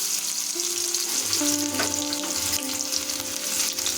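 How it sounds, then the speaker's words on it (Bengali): Chopped onions, about 100 grams, sizzle and fry in a hot wok (kadai) with occasional stirring, a steady close crackle with no talking. "এখন আমরা কড়াইয়ের উপর যোগ করে দেবো 100 গ্রাম পেঁয়াজ কুচি।"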